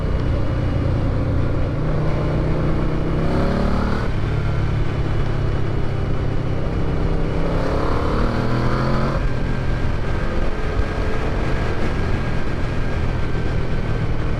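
A restored Yamaha Vmax V4 muscle motorcycle pulls hard on the road, its loud engine note climbing repeatedly through the gears beneath constant heavy wind rush, with no speech.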